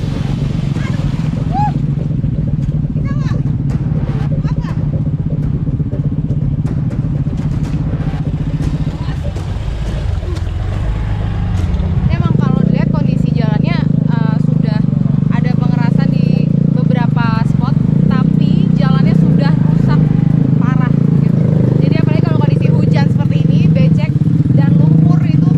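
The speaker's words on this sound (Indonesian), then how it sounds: "Motor yang saya tumpangi tidak kuat menerjang kubangan." A motorcycle engine labors and revs unevenly through a muddy road, growing louder midway, while a voice talks over the noise.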